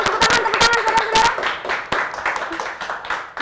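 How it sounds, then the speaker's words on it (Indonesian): A live audience breaks into brief, dense clapping, strong at first and then thinning out, with a voice speaking over it. "Tepuk tangan, saudara-saudara."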